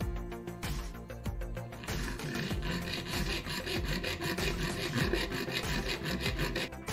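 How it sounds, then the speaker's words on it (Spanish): Hand saw cutting through a short plastic piece, about three centimetres, while repairing a charger cable; steady rasping back-and-forth strokes run close and loud without pause, with no talk. "Vamos a cortarlo con la sierra de mano también."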